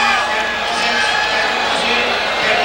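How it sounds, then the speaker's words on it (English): A crowd at a 1994 Lillehammer Olympic men's free skate figure skating arena lets out a broad, steady groan at the judges' marks, a dense wash of many voices filling the hall throughout. "you can hear the groans from the crowd"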